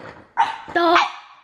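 A small puppy barks in short, loud bursts, two close yips followed by a longer sustained bark, with someone talking around them.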